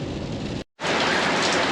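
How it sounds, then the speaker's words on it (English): Steady, dense rain drums on a tin roof during a near-freezing downpour, loud and continuous, with a brief full dropout before the hiss and patter resume. "I have to speak a little louder because it's raining outside and it's a tin roof."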